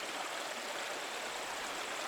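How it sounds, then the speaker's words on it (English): Waterfall in the video game Pentiment, fed by snowmelt from the mountains above an abbey: a steady broadband rushing wash with no breaks, even and constant over the short stretch, with no voices. "The waterfall must flow down from the snow melt in the mountains above the abbey."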